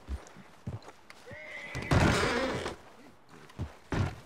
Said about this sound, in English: What's with that horse?